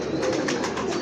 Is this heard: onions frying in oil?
no